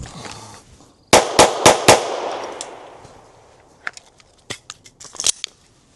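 Sharp reports of homemade reloaded practice ammunition fired from a handgun: four loud shots in quick succession, followed by quieter metallic clicks and a few lighter cracks, with no talking.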